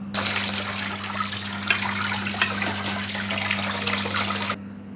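Tap water runs steadily over cooked rice in a vessel as it is rinsed to cool for a vegetable dum biryani. A continuous close splash starts abruptly and cuts off near the end, with a low hum beneath.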